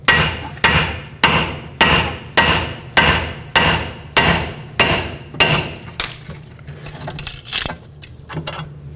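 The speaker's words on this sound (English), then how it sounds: "So let's get a hammer, hold up on the knuckle and down on the control arm." Repeated hammer strikes on the steering knuckle of a 2012-2017 Toyota Camry to pop the ball joint free, about ten sharp, loud metallic blows at a steady rhythm, tapering off near the end with no talk.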